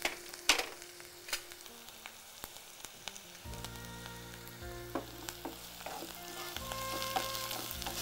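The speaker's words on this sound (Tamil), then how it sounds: "இந்த வெங்காயம் மட்டும் நல்லா நிறம் மாறி நல்லா வதங்கணும்." Small onions and curry leaves sauté in hot oil with a steady close sizzle, broken by occasional sharp pops and stirring scrapes. A low hum sits underneath, and no voices are heard.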